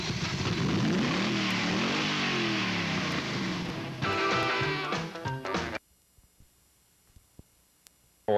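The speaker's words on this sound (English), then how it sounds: "And that's the LT5 engine." Chevrolet Corvette ZR-1 LT5 V8 at a press conference, the engine catching and revving loudly with sweeping pitch for several seconds before cutting off abruptly, leaving a quiet room with faint small noises.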